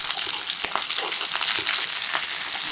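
Shishito peppers stir-fry in a hot pan, giving a steady, loud sizzle with crackling pops and scraping stirs throughout, and no voices.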